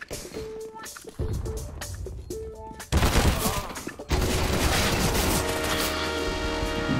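Gunfire rattles in CS:GO on the Overpass map: rapid automatic bursts and single shots crack repeatedly, some louder and closer, with dense volleys running through the second half.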